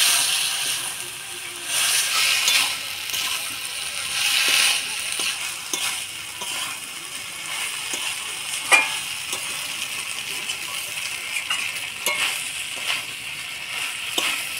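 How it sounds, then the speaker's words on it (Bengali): Fried ground spice paste is stirred into jackfruit curry in a pan, with soft sizzling and scattered scraping clicks of the spoon at irregular intervals, close and moderately quiet throughout. "ভাজা মশলা দিয়ে ভালো করে নাড়াচাড়া করে নিলাম।"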